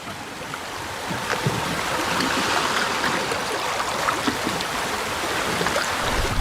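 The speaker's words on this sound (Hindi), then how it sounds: "चप्पू पानी के अंदर।" Oars dip and pull through water in a steady splashing rhythm, with a constant wash of moving water and small trickles running alone at close range.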